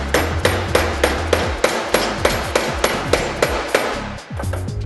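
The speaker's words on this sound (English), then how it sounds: "And this is what I got the hammer here for." Hammer blows drive a bushing into a Progressive 940 motorcycle shock, about a dozen sharp, evenly spaced strikes ringing out loud and close over a steady background hum.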